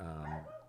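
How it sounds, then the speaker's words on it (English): A single close, loud dog bark with a harmonic, slightly growling tone, heard from a dog outside a home studio, short and alone. "don't even know if you guys can hear the barking"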